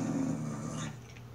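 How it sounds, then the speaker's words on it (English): A Minecraft dog growls low and menacingly for a moment, the rumble fading out after about a second. "Why is that dog angry?"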